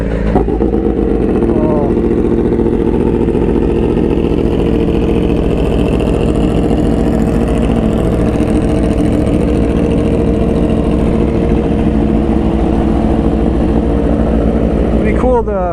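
BMW S1000RR motorcycle engine running at close range, a loud continuous throaty drone with slight swells, and a brief voice heard over it.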